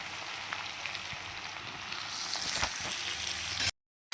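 Sliced onion and bitter gourd fry together in a pan for a garlic chili dish, making a steady close sizzle with light stirring clicks that swells a little louder before cutting off abruptly near the end.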